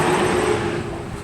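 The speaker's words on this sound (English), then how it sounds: "Another truck." Another truck passing by an old 1800s grain house, a short steady rumble of engine and road noise with a faint tonal hum, loud and continuous without talk.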